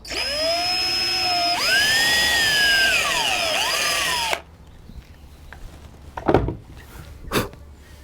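A power drill whines loudly for about four seconds while boring a hole in wood, its pitch sagging and rising, then cuts off, followed by a few light knocks.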